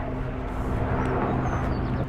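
A low-flying helicopter passes overhead outdoors near cows, its steady broadband rumble with tonal hum holding loud and continuous throughout, no voices over it.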